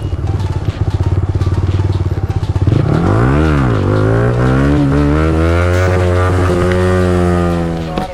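A Yamaha R15M motorcycle's engine is revved hard for a wheelie, a loud close roar that drops away then climbs in rising sweeps and holds a high, steady note.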